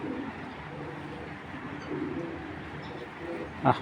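Fancy pigeons, including checker and grizzle breeds, cooing softly in a loft, low repeated coos with faint background noise and a brief louder sound at the end.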